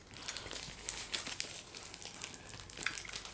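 Crinkly packaging for Hyundai car accessories is unwrapped up close, a steady run of soft crumpling and rustling with a few brighter crackles.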